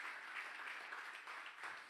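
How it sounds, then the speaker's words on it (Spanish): A church congregation claps together during a Spanish-language Sunday worship service, a short, fairly faint burst of dense applause. "Denle un aplauso al Señor."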